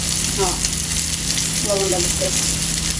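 Pangas fish fries in a pan with a dense, loud, continuous sizzle, and brief faint voices murmur underneath.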